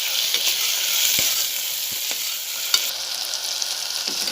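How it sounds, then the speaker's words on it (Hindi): Onion and tomato sizzle steadily in a pan, a continuous close frying hiss with occasional soft clinks of stirring. "टमाटर डालकर प्याज को थोड़ा पकाऊंगी। टमाटर नरम होने तक इसे पकाऊंगी।"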